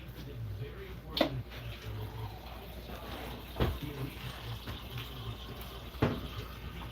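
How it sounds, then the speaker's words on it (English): Water runs steadily from a kitchen tap while a keto mushroom pizza is being made, a continuous close hiss with a few brief knocks and clatters over it and no speech. "So let me get some water here."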